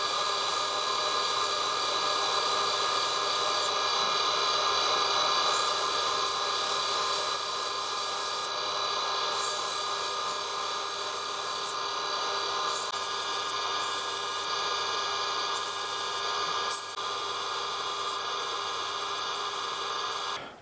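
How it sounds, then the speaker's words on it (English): A Gem Master grinder fitted with a sintered metal bond diamond wheel of about 170 grit hums steadily while opal edges are ground, with a continuous high whine and intermittent scraping contact throughout, close and without talk. "I'm going to be working on my Gem Master grinder now. I'm using a sintered metal bond diamond wheel around about a 170 grit."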